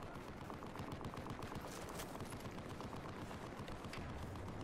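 Dense, steady burst of rifle gunfire and explosions in a Battlefield 4 multiplayer match, including a Barrett sniper rifle, with loud overlapping shots and booms filling the whole stretch, no talk.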